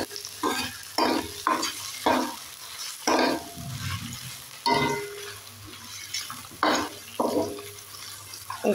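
Onions fry in a pan for an egg salan. Irregular bursts of crackling and scraping rise and fall over a quiet background of low sizzle, as if the pan is being stirred.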